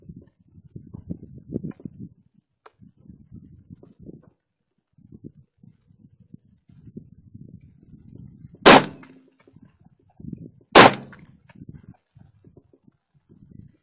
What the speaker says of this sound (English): We're doing 10 gauge versus steel drum.